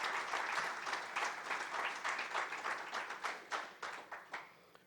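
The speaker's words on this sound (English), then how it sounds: "give yourself a huge round of applause for what we all have" Audience applause fills a business conclave hall, dense steady clapping from a large crowd that thins toward the end into a few distinct, separate claps.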